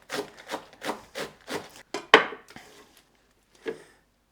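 A kitchen knife slices lettuce leaves finely on a wooden cutting board during home meal prep, about eight crisp rhythmic cuts close by, with a few scraping strokes and one final slice after a short pause.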